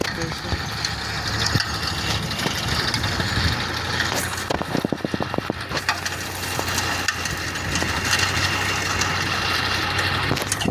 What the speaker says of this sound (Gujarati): હવે ટ્રેક્ટરથી ખાતર છટાઈ જાય અને બે ટ્રેક્ટર છે